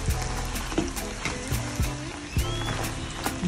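Merveilles, French fried dough pastries, frying in hot oil, a steady close bubbling sizzle with several soft utensil knocks and scrapes spaced through it.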